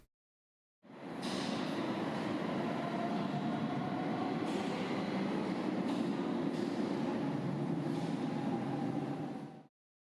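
A Lisbon metro train runs through the airport station, giving a steady rumbling roar with rattling wheels and faint squeals that rises in and fades out after about nine seconds, and no voices are heard.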